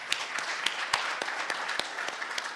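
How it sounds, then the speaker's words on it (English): Applause from an audience at a fertilizer and agro-dealer gathering, a dense steady patter of many hands with a few sharper claps standing out, moderately distant and alone. "Can we clap for them, please?"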